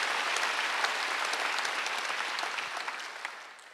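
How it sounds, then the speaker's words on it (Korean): A church congregation claps loudly during a Wednesday worship service, with dense sustained applause that slowly tapers toward the end. "깨달은 사람은 박수 한번 크게 쳐봐요"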